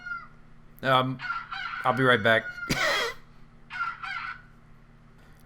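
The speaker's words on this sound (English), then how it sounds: "that was my alarm on my phone for cooking." A phone alarm with a rooster-like crowing tone goes off in bursts with short gaps between them, mixed with a man's speech, and a steady low hum runs underneath.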